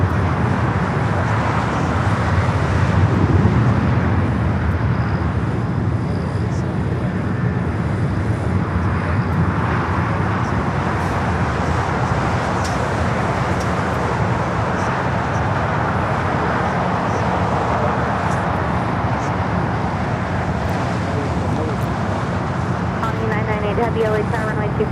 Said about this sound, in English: France 777. Flight 24 coming in from Paris.